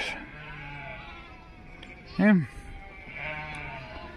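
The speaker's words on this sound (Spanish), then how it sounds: "ahí vienen las ovejas con los borregos hacia aquí" A flock of sheep with lambs on a farm, with one loud, close bleat rising and falling midway through, set against a quiet outdoor background with low voices.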